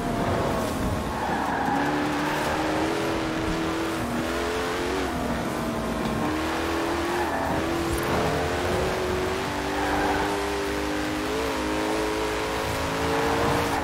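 A Koenigsegg Regera drifting in Forza Horizon 4, its engine droning steadily with rising and falling pitch under long, continuous tire squeal, loud and close throughout.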